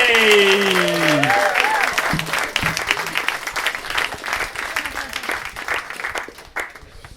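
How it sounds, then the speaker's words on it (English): Dense, sustained applause fills a stand-up comedy show in Tokyo, a broad wash of many clapping hands, loud at first and gradually fading, with a voice talking over the start. "Big round of applause for Tom Survive"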